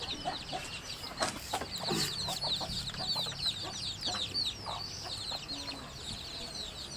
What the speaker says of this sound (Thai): ไก่อาจารย์ป่วยโดนน้ำไปกี่ตัวไม่รู้